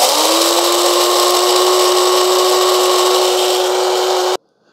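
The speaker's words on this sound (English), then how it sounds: "Let's go down and just do 6 cups. Let's do coarse, okay? And again, I'm gonna hold it." Mr. Coffee 12-cup electric coffee grinder grinding beans on the coarse setting for six cups, a loud, steady motor whir that holds for about four seconds and then cuts off abruptly.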